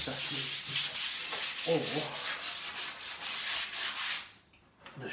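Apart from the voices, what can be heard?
orbital sander sanding wood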